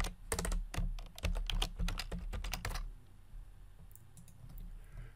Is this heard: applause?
no